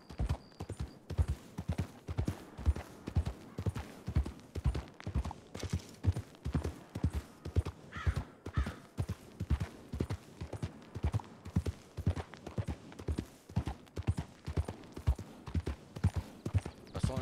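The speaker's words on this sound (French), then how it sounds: "De toute façon, on a des chevaux, ça sert à ça, hein, à voyager." Horses trot in a western video game, steady rhythmic clip-clop of hooves throughout, fairly close and even, with a faint whinny partway through.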